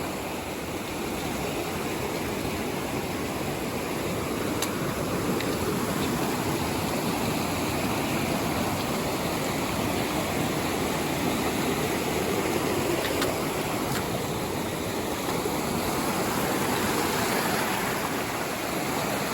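Icy cold creek water on Lower White's Creek Trail near Reno, Nevada, a steady broadband rush of flowing water at a stream crossing, constant and fairly close with no talking.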